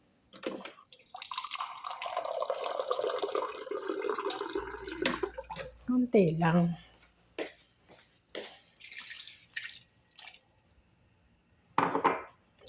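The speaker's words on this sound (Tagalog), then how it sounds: "Bigyan natin ng konting tubig para pampalambot." Water pours steadily onto chicken feet for several seconds, then trickles and splashes in short bursts, with a brief spoken remark partway through.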